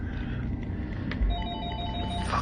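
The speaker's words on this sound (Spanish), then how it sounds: "Este maldito teléfono ya no va a volver a sonar otra vez." An old telephone rings with short electronic-sounding tones at moderate volume over a faint background hum and a brief low thump.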